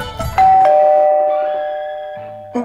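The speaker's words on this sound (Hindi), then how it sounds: "अभी घंटी बजी है।" A doorbell chimes with two bright tones that ring out and slowly fade, then a lower tone sounds near the end, clear and close.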